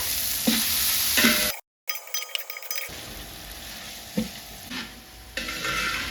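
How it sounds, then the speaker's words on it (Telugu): A large batch of sliced onions and green chillies fries in oil, a steady hiss broken by metal clinks and scrapes of stirring, with a brief dropout partway through. "గోల్డెన్ కలర్ వచ్చేంత వరకు ఫ్రై చేసుకుంటాము."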